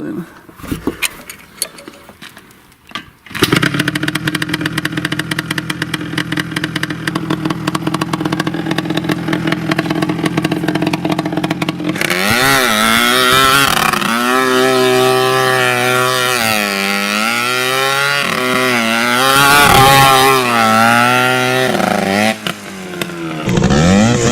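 A homemade dune buggy engine runs roughish, with one cylinder cutting out at high revs, rising and falling through repeated revs after a quieter opening idle, loud and close.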